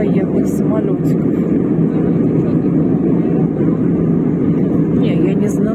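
Steady, loud airplane cabin roar in flight along the Turkish coast, a continuous low engine and air rumble filling the whole stretch without letup, with faint speech mixed into the drone.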